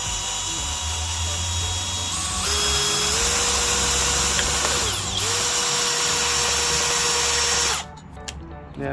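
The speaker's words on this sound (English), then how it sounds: "So I'm just going to drill them any old place." A power drill bores holes in a wooden battery tie-down for a Honda Civic EF sedan. It whines loudly and steadily, rising in pitch as it speeds up, then cuts off abruptly near the end.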